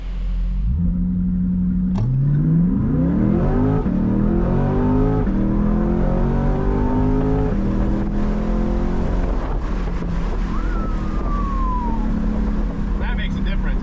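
A fast dually pickup on new wheels and tires accelerates hard in a loud, sustained pull, the engine note climbing steadily through several rising sweeps with gear changes, close and dominant throughout.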